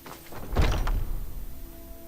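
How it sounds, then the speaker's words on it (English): A back door in the game Skyrim is opened and shut, giving a heavy wooden thunk and creak midway, followed by a low fading rumble, alone with no talk. "I'll go out the back door here."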